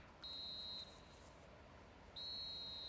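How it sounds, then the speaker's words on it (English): Referee's whistle in the eFootball soccer video game: two steady shrill blasts, the first short and the second held at the end, over a constant low crowd hum. "Referee looks at his watch and blows his whistle."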